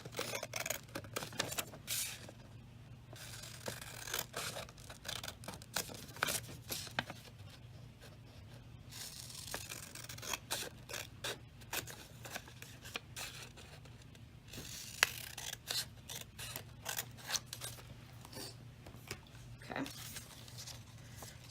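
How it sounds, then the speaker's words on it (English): Scissors snip through paper along a dotted line in a quiet room, a steady series of faint, close crisp cuts and rustles that continues with only brief pauses. "I'm going to cut right along the dotted line."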